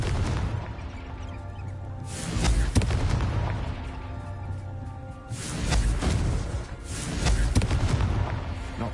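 A Confringo fire spell from Hogwarts Legacy on PS5 erupts in heavy booming blasts, with loud explosive bursts near 2.5 seconds and again from about 6 to 9 seconds over a dense rumbling game soundscape.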